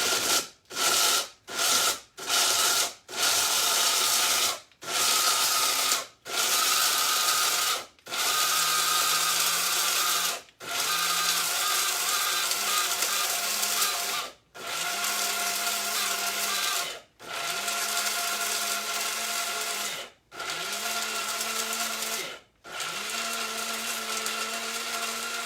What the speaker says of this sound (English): But we're going to use the spice grinder.